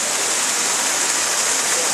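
Steady rushing water pours continuously, a dense, loud hiss like a nearby waterfall, passed on the Storybook Land canal boats ride, with no pauses.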